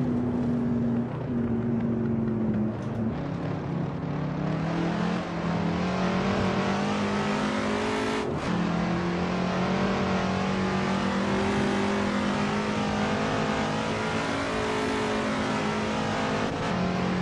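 A Shelby Cobra's V8 snarls around the Nordschleife in Assetto Corsa, loud and continuous, its raspy tone rising and dipping with gear changes and a sharp downshift burst midway, with no voices over it.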